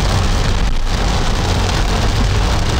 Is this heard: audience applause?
no